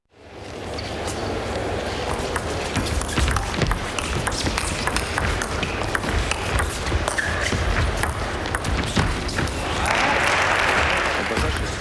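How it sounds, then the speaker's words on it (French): An audience at a table tennis match bursts into sustained applause, many hands clapping continuously, with a brief louder swell near the end. "on a entendu les applaudissements pour le 2e point de Liu Yangfeng"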